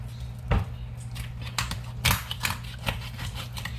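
A sharp knife chops through boiled chicken bones for homemade pet food, giving a few separate close crunching cuts spaced irregularly over a few seconds, fairly quiet overall.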